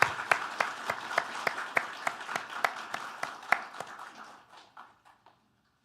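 A church congregation claps in a steady, even rhythm to welcome a new pastor. The beat is fairly close and moderately loud, then thins out and fades to silence near the end.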